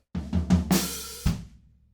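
Hand-played drumming moving from floor tom to snare and hi-hats: a few quick, close strikes and a final hit ringing out briefly, alone without talk.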